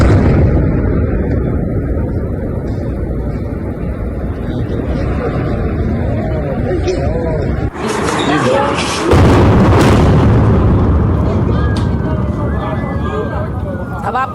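A destructive blast bringing down a building in Lebanon, heard as a sustained roaring rumble with a sharp break and a burst of debris noise partway through, loud and close.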